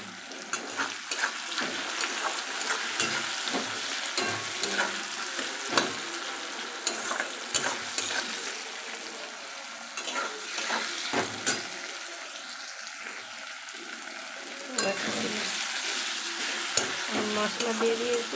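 Onion and tomato frying in a pan, a continuous sizzle broken by frequent clattering stirs and scrapes of a spatula, close and steady throughout.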